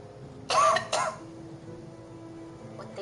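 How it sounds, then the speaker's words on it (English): A woman coughs twice in quick succession, two sharp close bursts over a quiet room background with a faint steady hum. "Excuse her coughing, guys."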